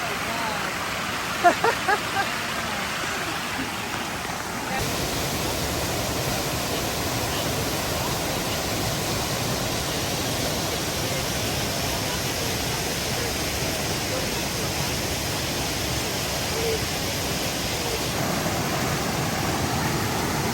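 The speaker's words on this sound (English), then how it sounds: "This is at the top of that waterfall." Steady, broad rushing water roars continuously without pause from the top of a waterfall on a flooded stream, close by, with a few faint knocks near the start.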